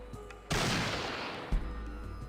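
A shotgun blast from Fallout 1 bursts out loud and close, followed about a second later by a second sharp report, each trailing off into a decaying rumble.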